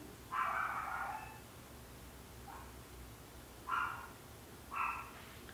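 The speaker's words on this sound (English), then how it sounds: "Can you hear that? The dogs are freaking out about something." Dogs bark in a few short bouts at a moderate distance: a longer run of barking first, then scattered single barks over a steady background hiss.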